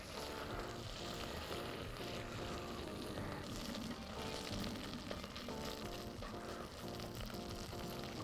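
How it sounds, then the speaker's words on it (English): About a tablespoon of tomato puree frying down in butter in a pan gives a steady, dense sizzle that holds level throughout, close and fairly quiet, with no talking. "So, that's about a tablespoon of tomato puree. And we're just gonna fry it down, right?"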